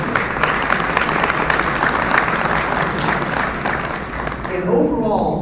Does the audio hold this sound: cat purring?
no